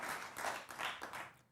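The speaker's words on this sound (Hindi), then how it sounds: "आप तालियां चाहे जितनी बजवा लें और बजा लें" An audience applauds on a Hindi television debate panel: soft, steady clapping from a crowd, muffled and fairly distant, rising and falling in brief waves before cutting off.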